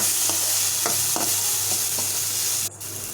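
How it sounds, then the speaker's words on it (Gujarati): Chopped onion, ginger and chillies fry in oil with mustard seeds and cumin, a steady close sizzle broken by several soft stirring scrapes, with no voices. "એક પેનમાં આપણે થોડું તેલ અને રાઈ જીરું નાખી દઈએ કાપેલી ડુંગળી છે આદુ મરચાં નાખી દઈએ સારી રીતે સાતળી લઈએ"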